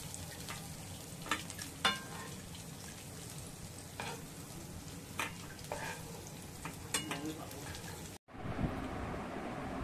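Prawns fry in a pan with a soft, steady sizzle and scattered spoon scrapes and clinks, close but fairly quiet, cutting off abruptly near the end.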